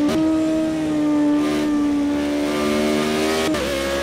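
A Formula Renault race car accelerating around the Brands Hatch Indy circuit, its engine holding a steady, strained high-pitched drone that climbs slightly before a brief gear-change dip near the end.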